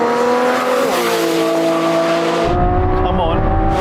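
A Lamborghini Revuelto and a McLaren 750S accelerate hard in second gear in a roll race from 30 mph. The engines roar loud and close with rising pitch and a gear change, and a voice talks over the noise.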